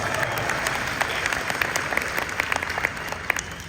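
A convention crowd at a Nosferatu Q&A with the director and an actor claps continuously, with a thick wash of applause and scattered crisp claps standing out near the end.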